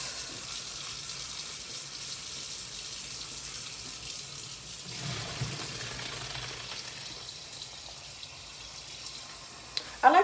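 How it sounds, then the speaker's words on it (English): Tap water runs steadily over cooked elbow macaroni being rinsed in a kitchen sink, a continuous hiss and splash close by with a brief louder clatter at the very end. "I like to just rinse the elbow macaronis after like cooking them a little bit"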